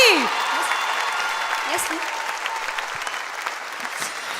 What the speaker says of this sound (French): Applaudissez-les bien fort, s'il vous plaît